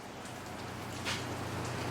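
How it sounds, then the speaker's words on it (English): Heavy rain falls outside a garage workshop, a faint, even hiss of drops with no talking. "It's raining like a cow peeing on a flat rock out there."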